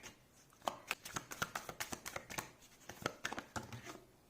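Tarot cards are shuffled and drawn by hand, a close, quiet run of crisp riffling flicks and papery snaps in an irregular, quick rhythm, with no one talking.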